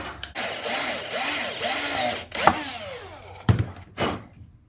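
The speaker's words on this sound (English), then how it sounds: "I've got one of these countersink bits, and I'm wondering how that's going to go." A power drill spins a countersink bit into a painted custom-build piece, whirring steadily with a wavering pitch as it cuts, then stopping and restarting in short bursts close by.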